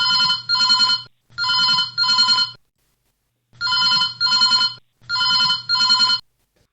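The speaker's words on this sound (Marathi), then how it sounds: "सर आता आपला एक फोन कॉल आलेला आहे, तो आपण घेऊया" A telephone on a radio farm call-in show rings in pairs of buzzy electronic trills, two double rings, a pause, then two more, clear and loud with no talking.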